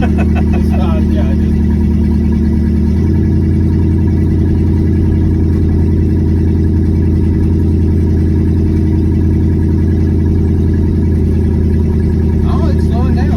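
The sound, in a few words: 1972 Chevrolet C10 pickup truck engine while driving and slowing down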